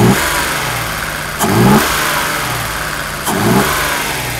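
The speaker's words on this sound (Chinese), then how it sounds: "大哥试着加油。" A Mercedes R107 280SL engine runs loud and close, with two short throttle blips rising above a steady idle during a repair check.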